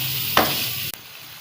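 Chickpeas and seekh kebab fry in chili masala in a pan, giving a steady close sizzle with a brief stirring scrape and a sharp click partway through, with no talk.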